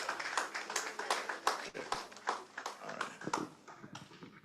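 Audience at a Ghana Geospatial Society induction ceremony clapping to welcome a speaker, a modest, fairly close round of uneven individual claps rather than a dense roar, tapering off toward the end.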